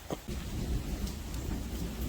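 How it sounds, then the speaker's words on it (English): Thunder rumbles steadily outside a houseboat under repair, a low continuous roll mixed with rain noise, fairly loud and unbroken for the whole stretch with no talking. "It started thundering out there"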